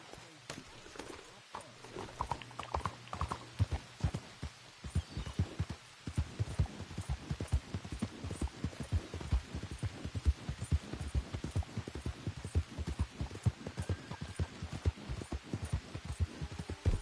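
A horse in Red Dead Redemption 2 gallops with rapid rhythmic hoofbeats under a low hum, fairly close, after a quieter start with a brief voice.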